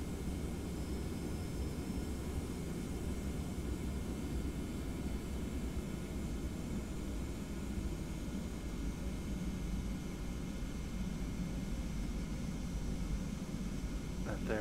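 Boeing 717 airliner in a flight simulator game, a faint, steady broadband roar of jet engines running through takeoff for about fifteen seconds, low in level with no distinct changes.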